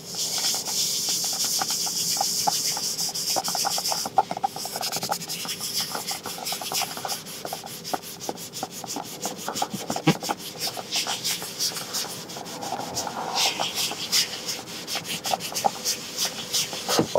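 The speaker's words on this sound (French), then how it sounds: "on vient frotter la trace bleue ici et on voit ce que ça donne" Steady, close scrubbing as foam cleaner is rubbed into a blue stain on a car seat, a continuous rasping rub with brief pauses and no talk.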